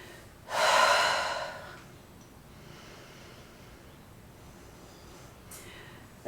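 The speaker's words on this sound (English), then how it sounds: "Taking a couple of breaths here." A single deep, audible breath during a vinyasa yoga flow, a strong airy exhale lasting about a second, close and fairly loud, followed by quiet room tone and a faint second breath near the end.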